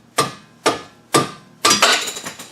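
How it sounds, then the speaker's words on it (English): Four sharp metallic knocks as a ratchet taps the rear wheel's lug nuts snug on a GM front-wheel-drive car, three evenly spaced and a last one ringing longer, close and loud with no talk. "we just snug them up and then we give them a couple taps with the ratchet"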